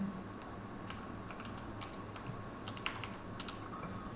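Typing a username and password on a computer keyboard: quiet, close key clicks tapped in short irregular runs over a faint steady room hum.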